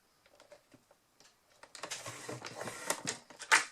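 Paper is folded and creased with a scoring tool while decorating a scrapbook notebook: a few light ticks and taps, then a louder run of close, crackling scrapes and rustles.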